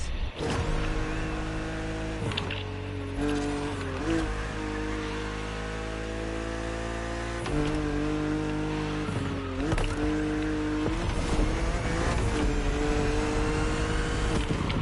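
A BMW Z roadster racing in The Crew Motorfest game: a loud, steady engine note climbs and falls through several gear changes across the run, without a break.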